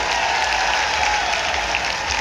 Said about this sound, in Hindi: एक बार मोहनलाल ब्रोली जी के लिए भी जोरदार तालियां